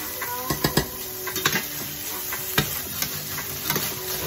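Tofu frying in a pan gives a steady close sizzle, broken by a handful of sharp scraping and tapping sounds as a utensil stirs the pieces, with no one speaking.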